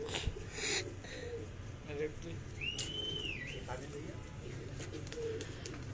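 Pigeons on a rooftop loft, including Sialkoti-type birds, give soft, low cooing with occasional wing flutters and a brief whistle, heard close amid background activity while someone talks nearby.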